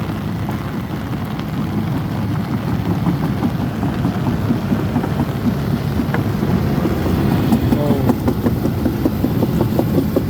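Heavy rain pours steadily outdoors, making a dense, constant hiss. A low engine rumble lies underneath and no one talks.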